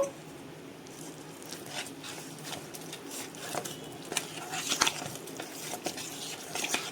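Mysore bonda batter being stirred with buttermilk, soft wet squishing and slapping strokes against the bowl in an irregular rhythm, close by with occasional sharper clinks.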